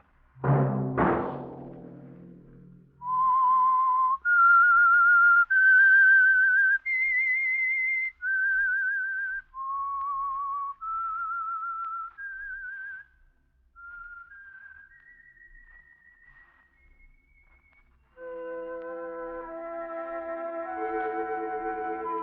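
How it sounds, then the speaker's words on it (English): A loud whistled melody of sustained, clear notes rising and falling in a slow tune, the theme signal of the 1948 radio drama The Whistler, preceded by a sharp deep thump and ending with a layered musical chord. "Let that whistle be your signal"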